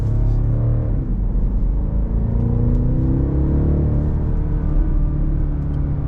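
A BMW X5 M50i SUV on the move, its engine giving a loud, continuous low rumble with a steady drone throughout, while any subtle exhaust burbles stay buried under the engine noise.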